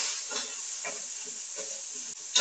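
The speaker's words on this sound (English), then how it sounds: "All right, the onions are sizzling." Onions sizzle in a pan for an almond curry, a steady close hiss with slight pulses of frying.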